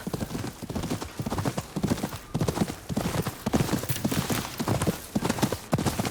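Horse hooves clip-clop steadily in the video game Ghost of Yotei, a near, rhythmic run of regular hoofbeats continuing throughout with no talk over them.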